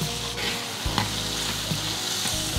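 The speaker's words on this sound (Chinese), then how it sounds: "把五花肉煎到两面金黄哈" Pork belly fries in a wok over low heat, a loud, close, continuous sizzle with occasional spatula knocks and stirring scrapes and no talking.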